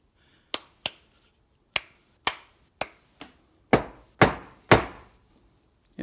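Wooden woodworker's mallet striking in a workshop, about ten sharp, hard knocks at irregular spacing, the later blows louder and ringing slightly longer, with no talk.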